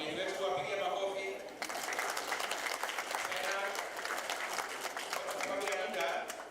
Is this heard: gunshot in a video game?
no